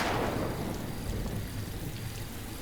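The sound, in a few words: rain falling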